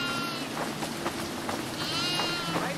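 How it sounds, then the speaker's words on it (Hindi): A goat bleats in a video game, giving a few wavering, nasal calls at moderate loudness over continuous background game noise. "हाय एक बकरी बाहर ही है।"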